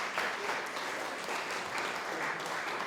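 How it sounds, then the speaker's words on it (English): Audience applause at a community iftar gathering as a prize winner is called up, a steady, moderately faint wash of many hands clapping that holds evenly throughout. "Round of applause, please,"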